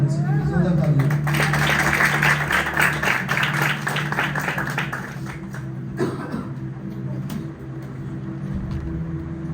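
A church congregation at a Good Friday service gives loud, dense applause for a few seconds. The clapping fades out around the middle, leaving a low hum and some faint activity.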